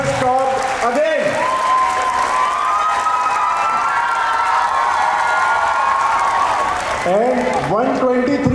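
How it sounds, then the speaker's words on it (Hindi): School audience at an annual function claps and cheers loudly, with children shouting and whooping; sustained crowd applause with a voice over the start and end. "2 लाख तालियां"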